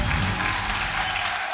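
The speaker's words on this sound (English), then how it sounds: "Please give a round of applause." Applause from a church congregation at a Mother's Day celebration, a steady dense clapping that holds at an even level for the whole short stretch with no voices over it.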